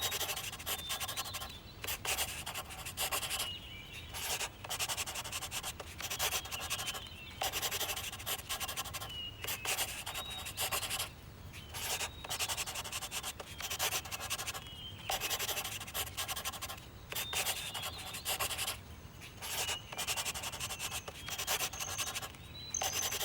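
A coloring pencil or marker rubs in quick back-and-forth strokes across paper while a water tanker drawing is filled in, a close, soft scratching in bursts with short pauses between them.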